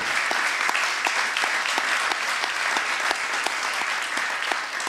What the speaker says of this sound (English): Lebanese Prime Minister Fouad Sanyoura was greeted with applause